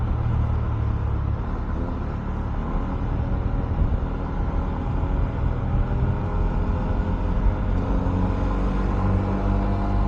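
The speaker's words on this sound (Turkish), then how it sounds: "Ay bu ne trafik ya." Road traffic heard from a moving motorcycle: a continuous loud rumble of engines and road noise with the mixed drone of surrounding cars. There is no talking.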